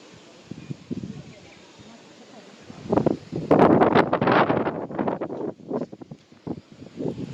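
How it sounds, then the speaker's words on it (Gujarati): Wind gusts buffet the microphone outdoors, rising to strong rushing bursts midway and then easing again, with faint rustling underneath. "અને વળી પવન લાગવા માંડી ગયો પહેલા નહોતો સવારના હવે વળી આવે છે પવન"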